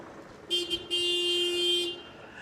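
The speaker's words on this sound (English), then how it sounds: "Honk, honk, honk" A car horn sounds: two short toots, then one long steady blast of about a second, fairly close and clear over quiet background.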